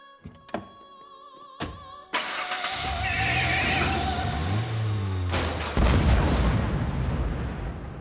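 A 1997 Toyota Camry is started in an animated scene, a few sharp thunks and clicks giving way to a cranking engine that catches and settles into a rising, rumbling idle close by.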